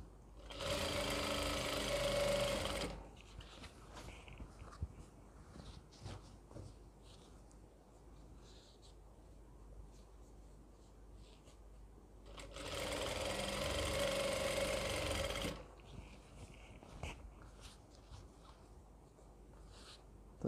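A sewing machine runs in two steady bursts of stitching, each a few seconds long, with quieter handling noise between them, as elastic is sewn onto an Afghani salwar.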